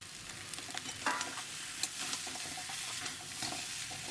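Fish heads fried earlier drop into cooked-down masala with chilli powder, setting off a steady close sizzle and frying crackle in the pan, with a few louder spits and stirring clatters.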